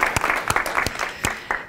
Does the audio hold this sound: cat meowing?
no